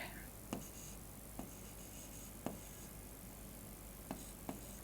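Marker or chalk taps and strokes on a classroom board come at irregular intervals, five sharp little knocks over a faint low background.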